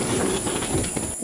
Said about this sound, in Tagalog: Sa lupa na yung LRT ah.